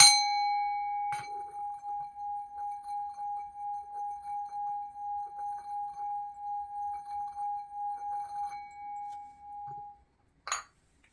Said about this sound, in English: this is going to be three bell rings